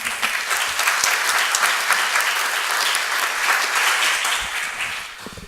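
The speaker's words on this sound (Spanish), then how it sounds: "Los recibimos con fuertes palmas, por favor" Steady, full applause from a conference audience at an international arbitration congress, dense clapping sustained evenly throughout with no voices over it.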